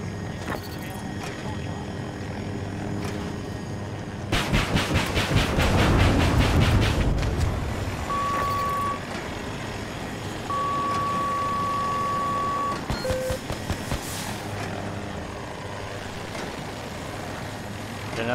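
Enemy helicopter in Battlefield 2042 whirring steadily beneath a cluttered battlefield mix, with a loud burst of gunfire and explosions midway and beeping tones afterward.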